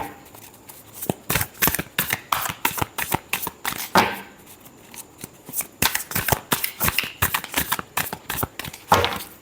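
Tarot cards are shuffled by hand in quick riffling bursts, a rapid run of crisp papery flutters and taps repeating closely, with no talking.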